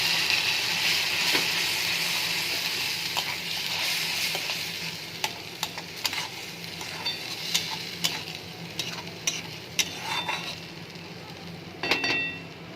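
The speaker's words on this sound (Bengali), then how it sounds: "দিয়ে ভালো করে কষিয়ে নেব।" Onion, ginger, tomato and garlic paste fries in a pan with a continuous soft sizzle, punctuated by sharp scraping clicks of a spoon stirring, with no talking.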